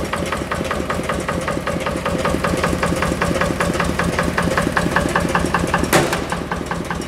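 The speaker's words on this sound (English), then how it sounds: "Nice single cylinder, Yeah. Single cylinder engine." A single-cylinder engine runs steadily at a museum, its rapid, even exhaust beats thumping close and loud with a brief sharp clank near the end.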